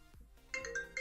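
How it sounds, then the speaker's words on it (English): A phone ringtone for an incoming call starts about halfway through, a faint electronic tone pattern with short repeating pulses and no talking. "Good heavens, a phone call."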